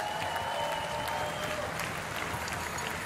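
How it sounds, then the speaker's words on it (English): Grandstand crowd at the 2024 World Rowing Championships applauding and cheering steadily for a U23 women's single sculls finish, a dense continuous wash of clapping with scattered shouts throughout. "on your feet, and one more cheer here for Alexandra Förster"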